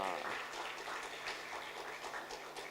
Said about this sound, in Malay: Tepuk tangan sikit.